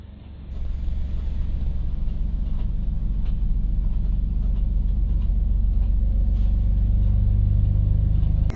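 A BMW E36 drift car engine starts up and settles into an extremely loud, deep, steady rumble that holds and swells slightly toward the end, close by.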